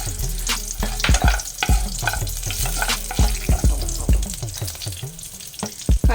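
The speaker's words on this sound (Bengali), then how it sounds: "এই সময় আমি এর মধ্যে কালো জিরাটা দিয়ে দিলাম। এবার কাঁচা লঙ্কাটা আমি দিয়ে দিচ্ছি।" Green chillies and nigella seeds fry in a small amount of oil in a pan, giving a loud, busy crackle and sizzle broken by frequent spatula knocks and scrapes.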